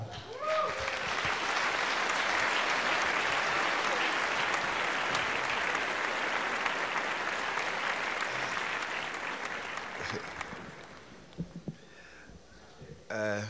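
An awards-ceremony audience bursts into loud, sustained applause that swells and holds for about ten seconds before thinning to scattered claps, with a voice briefly heard near the start.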